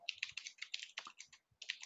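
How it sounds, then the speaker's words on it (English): Quick, light keystrokes on a computer keyboard while entering code, a rapid run of close clicks in short bursts with one brief pause near the end, alone and without speech. "I just like to type it out."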